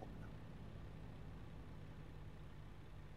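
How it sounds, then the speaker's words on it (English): A truck idles in American Truck Simulator, a steady low engine rumble holding level throughout with no talk over it. "can you hear my truck?"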